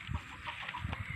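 Chickens cluck in short, soft bursts close by, several birds murmuring over a low outdoor background with no talking.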